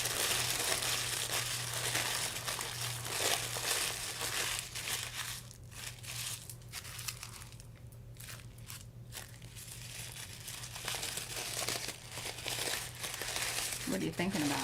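Material crinkles and crumples steadily while a foam head is being made over for decor, a continuous rustling texture running under conversation throughout.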